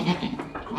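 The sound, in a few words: goat bleating on a farm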